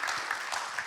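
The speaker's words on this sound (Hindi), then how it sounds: "ताली बजा के पादरी को स्वागत करें।" A church congregation at a Sunday Hindi service claps to welcome the pastor, a brief burst of many hands applauding together, dense and moderately loud.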